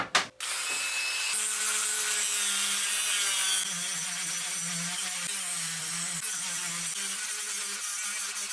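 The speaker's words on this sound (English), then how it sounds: "And I'll do that with the Dremel tool as well." A Dremel rotary tool cutting a hinge slot in a wooden glidebait lure makes a continuous high-pitched whine and grind, close and steady, with the pitch shifting slightly as the bit bites into the wood.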